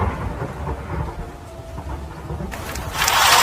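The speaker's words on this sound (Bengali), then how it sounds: "সুন্দরপুর গ্রামে মুষলধারে বৃষ্টি শুরু হয়।" Heavy downpour over a village in a Bengali horror cartoon, a steady broadband hiss of rain with low rumbling underneath, swelling louder in the last second.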